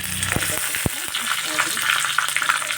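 Mustard seeds crackling and spluttering in hot oil for a lentil sambar tempering, a steady close sizzle with a few sharp pops early on.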